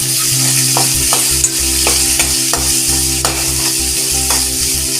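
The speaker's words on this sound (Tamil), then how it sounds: "சின்ன வெங்காயம் நல்லா வதங்கட்டும்" Small shallots sizzle steadily in hot oil while being stirred for a Tamil chicken uppu kari, with a continuous frying hiss and repeated scraping stir strokes about every half second, close and loud, with no talking.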